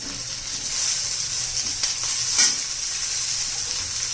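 Tomatoes hitting a pan of frying onions while cooking zunka, a steady loud sizzle and hiss with light stirring scrapes and a brief sharper crackle near the middle.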